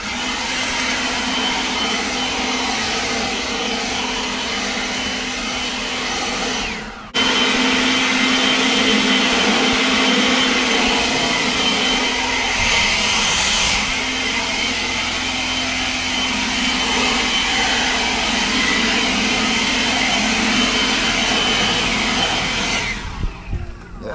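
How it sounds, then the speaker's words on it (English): A Kobalt 24V brushless leaf blower, from a 2-in-1 trimmer and blower set, runs with a steady, airy whine outdoors, dipping briefly once before resuming at full strength until it cuts off at the end. "You need a blower."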